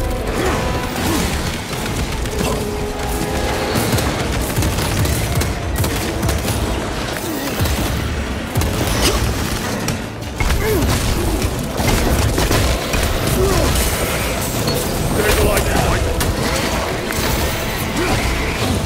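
Orbital gun strikes in Warhammer 40,000: Space Marine 2, heavy booms and crashing blasts rolling through a dense, loud battle din with mechanical clatter throughout.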